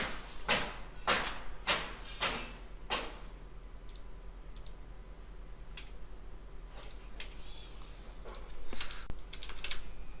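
Computer keyboard typing while writing Android Studio code, a quick run of close, sharp key clicks at first, then sparser taps and pauses at a low level.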